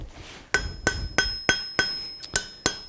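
A hammer taps down a hot steel shovel at a blacksmith's forge, closing a seam: eight sharp, ringing metallic strikes in a steady, slightly uneven rhythm, close and loud, with no talk.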